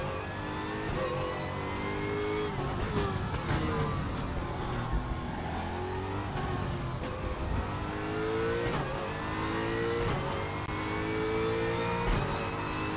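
A Ford GT race car in the RaceRoom racing game during a hot lap, its engine droning loudly and continuously while the pitch rises and falls through repeated accelerations and gear changes, with no talk over it.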